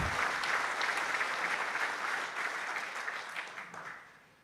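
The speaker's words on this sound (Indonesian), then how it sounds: "Tepuk tangan untuk komandan kita" An audience at Sesko TNI, the Indonesian military staff college, applauds for their commander, a full round of clapping that holds steady and then fades away toward the end.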